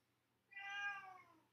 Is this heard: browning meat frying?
no